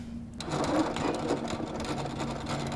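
A Little Rebel sewing machine back stitches briefly before sewing a quilt binding, a close, continuous rapid mechanical whir that starts after a short quiet moment and runs steadily to the end.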